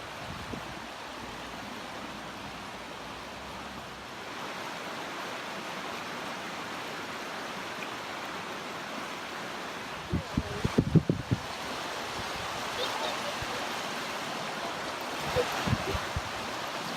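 Continuous broad rush of flowing water from Oak Creek fills the whole stretch, steady and fairly loud, with a few brief knocks and handling bumps midway.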